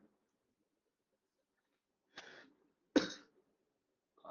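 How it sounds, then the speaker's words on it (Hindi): Two short, dry coughs close to the microphone, a faint one followed by a louder, harsher one about a second later, in an otherwise quiet room during a spoken revision lesson. "खांसी बहुत चल रही है"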